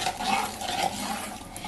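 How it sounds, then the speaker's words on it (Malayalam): A sweet drink mixture stirred in a pot, a continuous soft swishing and scraping close by with faint metallic contact, steady and unbroken throughout. "ഇത് നല്ലോണം വെച്ചിട്ട് തന്നെ ഇളക്കണം."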